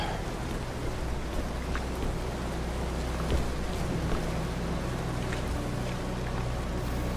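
Rain pours in a war video game set in Turkey, a heavy, continuous wash over a low rumbling bed, with faint scattered knocks and no voices.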